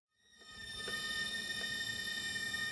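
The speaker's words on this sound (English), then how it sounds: "That noise you can hear is the injectors." Steady mechanical whine with high tonal harmonics and a dense rumbling buzz, fuel injectors from an air-cooled Porsche 911 running continuously on a test bench, fairly close, no talking.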